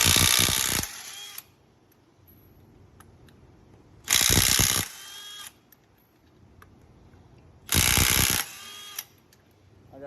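A right angle impact wrench with a socket loosens lug nuts on a Cadillac SUV wheel, firing three loud, harsh hammering bursts of about a second each, separated by quiet gaps with faint mechanical rattles.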